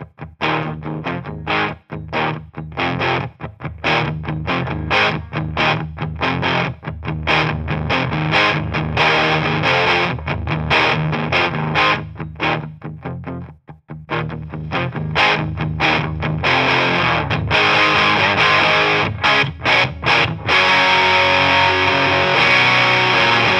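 An electric guitar is played through a Warthog overdrive distortion pedal, heavy crunchy chords and riffs with short stops, loud and close, alone with no talk.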